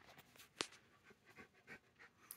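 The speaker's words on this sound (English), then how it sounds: "If you hear panting, that is my dog." Quiet, rhythmic panting from a dog, short breaths repeating close by, with one brief sharper sound.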